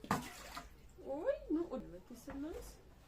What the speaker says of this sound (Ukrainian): Давай, наливай сюди водичку звідси.